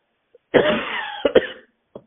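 A short burst of coughing, one sustained rough cough followed by two sharp hacks, then a faint brief cough at the end, close and alone.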